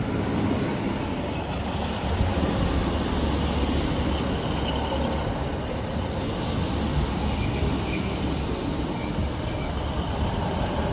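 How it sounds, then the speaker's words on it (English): Northern class 156 diesel unit, 156461, pulling into a station on the Stalybridge to Southport service, heard as a steady loud rumble of wheels and engine throughout with faint wheel squeal, no talking. "Arriving in now is the 1755 Northern service from Stalybridge to Southport."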